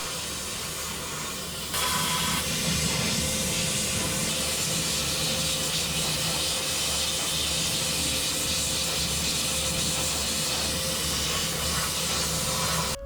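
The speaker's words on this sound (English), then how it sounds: "I'm using a hot degreaser washer to remove all of the grime and oil from the components" Hot degreaser parts washer stripping grime and oil from antique Villiers engine components: after a short quiet lead-in, a loud, steady hissing spray switches on and runs continuously without a break.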